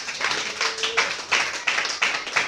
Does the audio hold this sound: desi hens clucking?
no